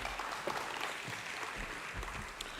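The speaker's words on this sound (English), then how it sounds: "Please give him a warm round of applause" Audience applause at a property conference, a steady wash of clapping from a room of people, moderately loud and continuous throughout.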